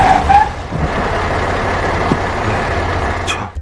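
A truck passing in a film scene where it strikes a man: a loud, close, rumbling engine roar and road noise holding steady, ending with a brief sharp hiss.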